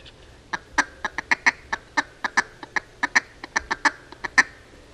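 A duck call blown in very quick succession mimics rapid quacking: about two dozen short, sharp nasal bursts in a fast machine-gun rhythm, close and loud, with no talking.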